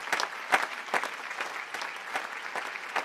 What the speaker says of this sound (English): acknowledge their parents' enthusiastic applause